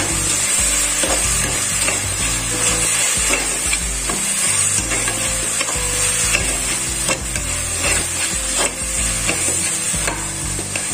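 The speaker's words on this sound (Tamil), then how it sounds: "இந்த டைமில் இஞ்சி பூண்டு பேஸ்ட் சேர்த்துக்கலாம். நல்லா கலந்து விட்டுடலாம்." Ginger garlic paste frying in a pan while being stirred for goat intestine (kudal) gravy, a loud continuous sizzle with scraping stir strokes throughout and no speech.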